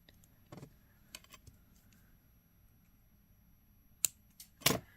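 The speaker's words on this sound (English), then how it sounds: "So now we just need to cut our wire off." Jewelry wire being snipped with cutters during necklace making: a sharp click near 4 s and a louder, closer snap just before 5 s, after scattered faint clicks in an otherwise quiet room.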